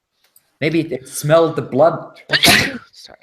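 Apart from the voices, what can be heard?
sneeze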